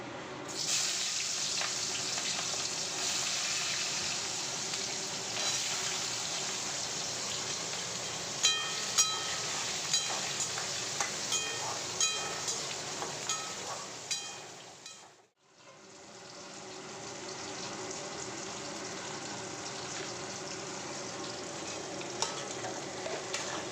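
Onion and capsicum fry in a pan with a steady sizzle throughout, and a spatula taps and scrapes in a quick irregular run midway. There is a short break before the frying resumes, and nobody speaks.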